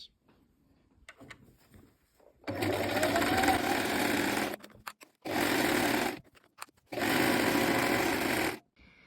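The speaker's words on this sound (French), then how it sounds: "Donc vous allez coudre à 1 cm" A sewing machine stitches a zigzag seam on a skirt with a steady fast mechanical whirring hum, running in three sustained bursts with brief stops between them.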